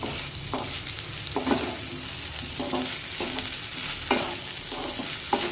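Moong dal and onion are stirred in a frying pan, the spatula scraping in repeated strokes roughly every second over a soft steady sizzle, close and clear with no talking.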